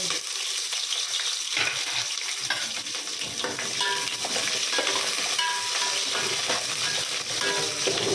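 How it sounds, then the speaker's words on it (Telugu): Whole spices frying in hot oil for pulao, a continuous bright sizzle and crackle with light stirring scrapes, steady and close throughout. "ఆయిల్ వేడెక్కాక అన్ని మసాలాలు వేసేస్తున్నాను"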